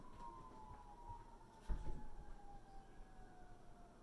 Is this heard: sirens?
yes